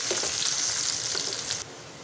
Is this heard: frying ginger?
yes